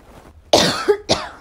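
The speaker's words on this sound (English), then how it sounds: "Now I'm going to cough." Two sharp coughs close to the mic, the first harsh and drawn out, the second shorter, after a quiet pause.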